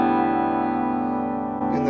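Clean electric guitar played through an amp with no effects, sustained notes ringing steadily and loud, with a fresh strum near the end.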